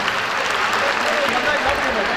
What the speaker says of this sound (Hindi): हाथ ऊपर करके भरपूर अंदाज में तालियां होनी चाहिए